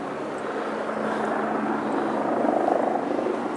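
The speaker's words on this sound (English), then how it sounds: "Apart from the noisy helicopter, sadly." A helicopter drones steadily overhead in London, its rotor throb holding a constant, moderately loud level and swelling slightly toward the end.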